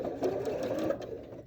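A home sewing machine stitches a quilt block for a schoolgirl sampler quilt in a short, steady whirring burst of rapid needle strokes that trails off at the end.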